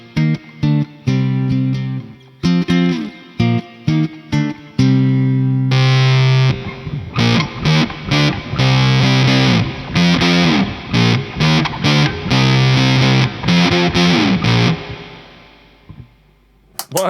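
A Cordoba guitar plugged in and played loud through a fuzz pedal, chunky distorted riffs with clear string attack, short stabs at first, then sustained chords and rapid strummed hits that ring out and fade at the end.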